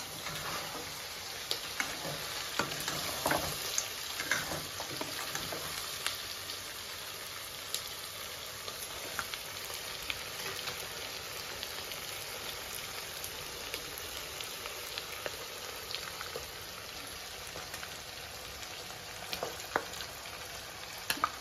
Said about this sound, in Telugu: ఆనియన్స్ ఫ్రై అయ్యండి.